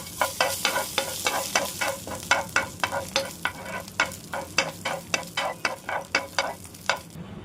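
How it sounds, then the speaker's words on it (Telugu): Cardamom, cumin, cloves, cinnamon and a bay leaf sizzle in a hot pan while a spoon scrapes and stirs in a quick, steady rhythm of sharp clicks, close and continuous. "ఇవన్నీ ఒకసారి దీంట్లోకి వేసేసుకుని వేయించుకుందామండి"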